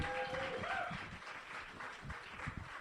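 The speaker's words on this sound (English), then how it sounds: "Give her a big old round of applause." A slam poetry audience applauds a poet after her first open-mic set: dense, steady clapping fills the whole stretch, with cheers and a whoop rising briefly near the start.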